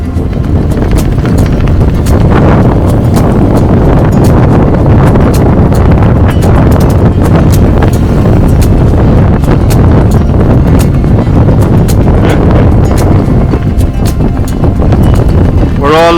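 Strong wind gusts batter a sailing boat on rough seas, a loud constant roar of buffeting against the microphone with sharp crackling bursts all the way through.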